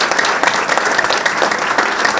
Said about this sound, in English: the committee really deserves another round of applause for where we've got to